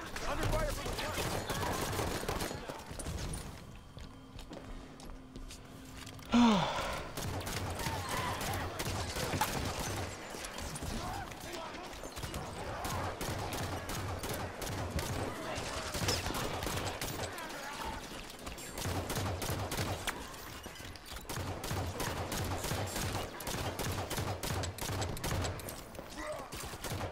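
Sustained gunfire in the Halo 5 video game, rapid bursts of automatic weapon fire repeating throughout, loud and dense, with voice callouts heard over the shooting.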